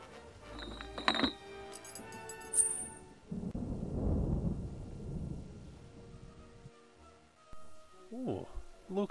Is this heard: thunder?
yes